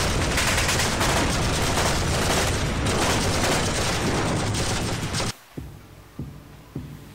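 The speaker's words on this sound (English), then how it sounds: "They stopped firing!" Dense, continuous gunfire from a movie trailer rattles loudly for about five seconds, then cuts off abruptly, leaving a few isolated thuds in the quiet that follows.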